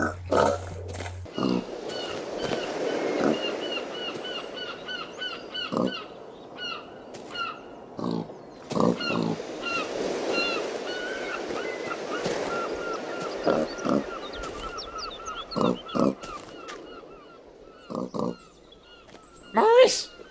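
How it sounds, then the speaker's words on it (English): Pigs grunt in a cutscene from the Paladin's Quest video game, with low snorting grunts repeating over a steady game background and punctuated by sharp effect hits, fairly loud throughout. "Have you been messing with those pigs again? Filthy creatures."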